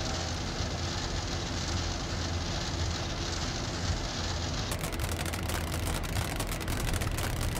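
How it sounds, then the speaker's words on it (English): Hail drums on an airliner, a Boeing in flight to Zurich, as a dense steady hiss and roar that turns sharper and more crackling partway through, continuous and loud with no talk. "And there comes the hail."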